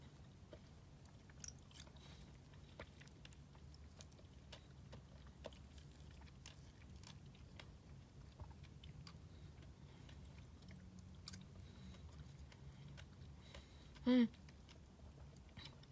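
Crisp, crunchy chewing of edible cactus fruit resembling dragon fruit, heard as soft, irregular close bites and crunches over faint room noise, with one brief louder sound near the end.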